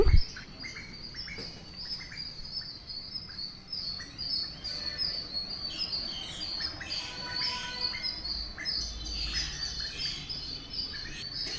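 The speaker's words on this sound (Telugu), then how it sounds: "ఇంత మంచి పక్షుల కిలకిలా రావాలి విన్న తర్వాత" Many birds chirp and tweet at once in the morning, a busy layered chorus of small calls with no talking.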